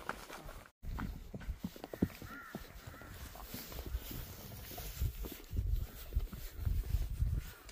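Horse hooves clip-clop in an uneven rhythm close by at Rara Lake, with outdoor noise and a crow cawing faintly in the background.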